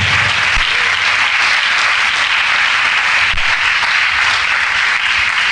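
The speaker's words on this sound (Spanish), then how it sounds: "Dele un aplauso al Señor" Church congregation gives sustained applause, a loud, dense, continuous roar of many hands clapping together, steady throughout with no voices standing out.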